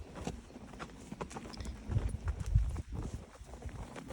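Horse hooves clip-clopping at a steady walking pace, fairly close, with light outdoor background noise.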